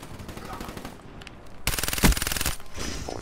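Rapid automatic gunfire in Black Ops 3 multiplayer, rattling in dense bursts and swelling loudest at mid-clip, then thinning into scattered shots.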